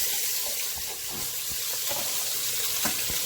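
Vegetables, collard greens and cabbage, hit a hot pan of chicken drippings over medium heat, giving a steady, close hissing sizzle with a few soft pops and scrapes throughout.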